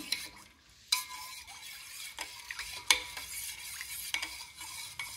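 Junnu milk pudding mixture being stirred in a vessel, with repeated close scraping and clinking strokes of a spoon against the pot and a faint sizzle underneath, no talking.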